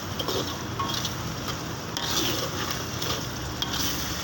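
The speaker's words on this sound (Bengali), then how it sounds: "দেখেন মশলা কষানো হয়ে গেছে এখন আর একটু কষায় দেবো" Spices and chicken stir-fried in a pan give a dense, continuous sizzle with repeated scraping strokes of the spoon, close and fairly loud throughout.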